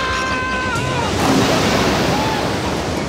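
Cartoon flood water rushing in a jungle, a loud, steady broadband roar of surging water, with brief whistling tones faint under it.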